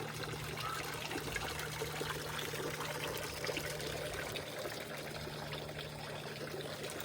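A backyard water fountain trickling steadily, a soft continuous splash and dribble of water, faint and unbroken, outdoors in San Marcos.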